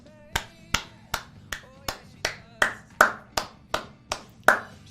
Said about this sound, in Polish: Klasku, klasku, dokładnie.